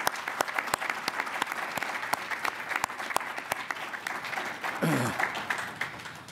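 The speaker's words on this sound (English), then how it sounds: "let's have another round of applause for all these rock stars." Audience applause at a university alumni awards reception, with sharp individual claps standing out in a steady round, plus a brief voice near the end.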